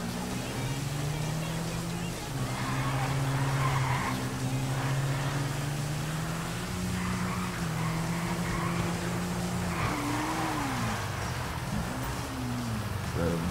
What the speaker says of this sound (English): And drive up to the back of the trailer and accept the alert.